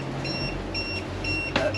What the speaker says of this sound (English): Let me just switch off the anchor alarm quickly.